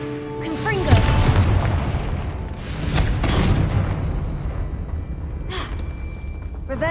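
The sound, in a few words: Confringo fire spell explosion in the Hogwarts Legacy video game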